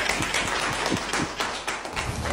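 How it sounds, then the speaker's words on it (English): Sharp clapping from a small group at a comedy skit, irregular claps close and fairly loud over a steady background noise, with only a little talk. "Please clap for me, my dear sir"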